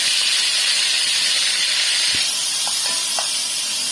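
Liver frying in hot oil in a pan, Alexandrian-style, giving a steady, loud sizzling hiss throughout with a few small pops and crackles near the end; nobody speaks.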